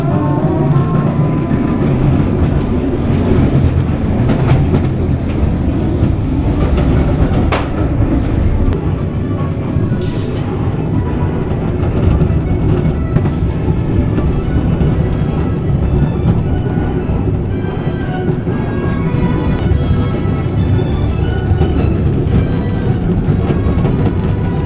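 Ghost Train dark ride cars at Blackpool Pleasure Beach rumble and rattle along the track in a continuous loud, close clatter with low mechanical roar and occasional sharper knocks throughout.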